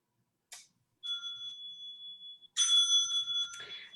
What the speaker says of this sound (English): I will ding a bell at about 15 seconds.